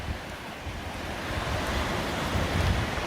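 A swollen, high-running river beside State Highway 1 in New Zealand rushes with a steady, loud broadband roar, mixed with wind buffeting the microphone, and no voices.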